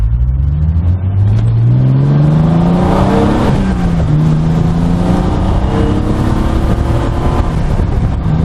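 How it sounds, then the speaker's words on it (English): A Triumph TR6 straight-six engine revs up loud and close, pitch climbing, dropping and climbing again in steady surges with a smooth, throaty drone. "it's that fantastic Triumph straight 6 engine"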